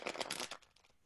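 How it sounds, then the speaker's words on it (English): Tarot cards are shuffled by hand in a quick, soft riffle of papery flutters that is fairly faint and close, fading out within about a second. "Basically, you shuffle it so that both of the tops are facing the same way."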